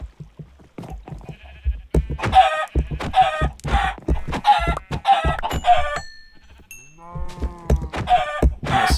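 Minecraft farm animals, with chicken clucks among repeated moos and bleats, a string of distinct calls in rapid succession, fairly close and clear, with no one talking.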